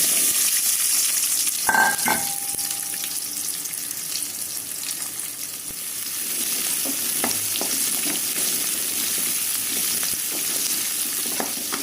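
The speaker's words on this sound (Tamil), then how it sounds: "எண்ணெய் ஊற்றிட்டேங்க இப்போ சின்ன வெங்காயமும் ரெண்டு பச்சை மிளகாய்" Sliced shallots and green chillies fry in hot oil for sambar, giving a steady close sizzle with a brief stir and clatter near the start and a few soft scrapes later.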